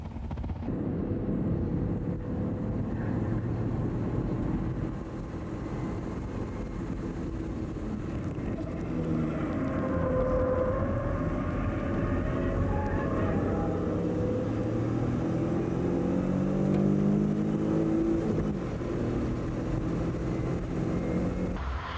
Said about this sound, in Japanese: 土屋選手が無言の全開走行をしているのだ。